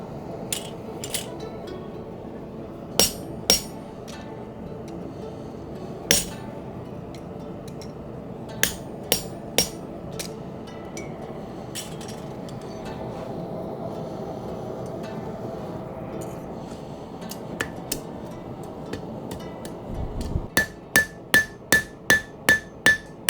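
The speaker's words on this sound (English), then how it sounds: "So as you can tell from just this little bit of hammering with this heat, we are already widening it a decent amount." Hammer blows strike hot steel being forged into a Japanese kiritsuke kitchen knife, sharp metallic clanks scattered irregularly, then a rapid run of about eight evenly spaced ringing strikes near the end, over a low background hum.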